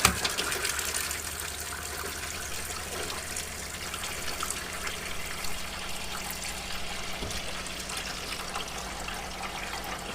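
Hot water runs from a tap in an Iveco Daily DIY campervan, a steady, close rushing stream with sputtering bursts of air, continuous throughout and without talk.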